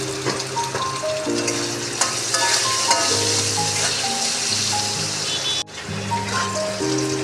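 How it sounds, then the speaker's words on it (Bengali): Small diced potatoes frying in oil with salt and turmeric in a home kitchen give a steady, even sizzle under background music, broken by a brief sharp clatter near the end. "একটু নুন হলুদ দিয়ে আলুটাকে ভেজে নেব।"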